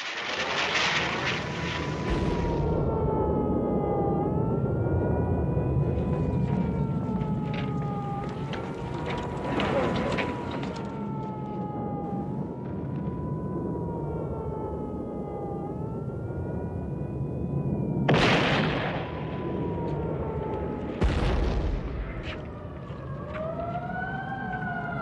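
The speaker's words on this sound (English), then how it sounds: "a salvo of Scud missiles is fired from mobile launchers in western Iraq" A siren-like rising and falling wail tied to a salvo of Scud missiles fired from mobile launchers in western Iraq, sustained and loud throughout, with sharp bursts of noise near the end.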